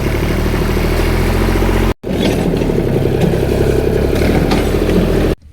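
A Ferguson tractor engine runs loudly and close, a rough steady diesel clatter that cuts out briefly and resumes as the tractor pulls away; no voices.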